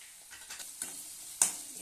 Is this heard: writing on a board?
no